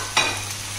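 Spring onions drop into a hot sizzling pan of Mongolian chicken, giving one short stirring rustle over a steady close frying hiss, with no voice.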